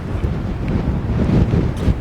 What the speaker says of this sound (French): On mange à côté du van parce qu'il y a trop de vent.